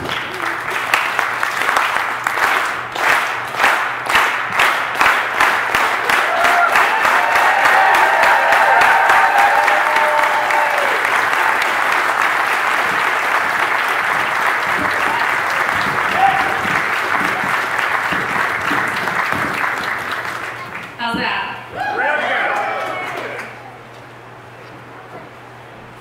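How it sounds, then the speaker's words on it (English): A room full of people claps for a speaker's entrance, starting as slow rhythmic claps that quicken and swell into loud continuous applause, then fade, with brief voices near the end. "we're going to do it with her favorite clap. We're going to start slow, and we're going to build it up until she gets here"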